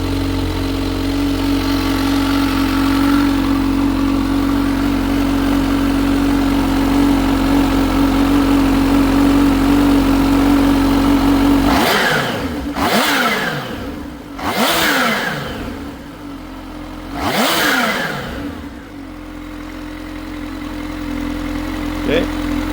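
A Kawasaki Z H2 motorcycle with its stock exhaust idles steadily and loud up close, then gets three sharp revs in quick succession before settling back to idle.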